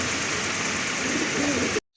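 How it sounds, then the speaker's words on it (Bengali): Pigeons coo softly in a pen of birds for sale, their murmuring calls blended into a steady wash of background noise until the sound stops suddenly. "এই যে দেখেন কবুতর জোড়াটা"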